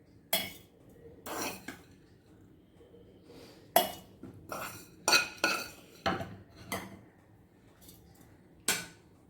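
Warm roasted spice masala is scooped into a mixer jar, making a string of separate clinks and scrapes of a spoon against metal with quiet gaps between them.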